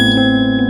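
A bright notification bell ding, one loud sustained ring with steady harmonic tones that fades slightly over under a second, alone.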